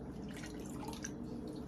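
Faint trickle of water poured over shredded cabbage and salt in a jar, a quiet, continuous splashing and dripping close by with no talking.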